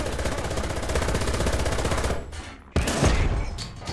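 Rapid cannon fire from a tank in the War Thunder video game, a loud sustained rattling burst of shots that cuts out, then a heavy blast and rumbling aftermath.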